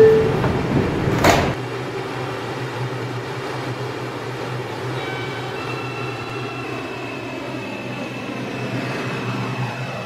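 Subway car doors on an R142 train shut with a sharp thud near the start, followed by a steady low rumble and hum of the car with faint tones above.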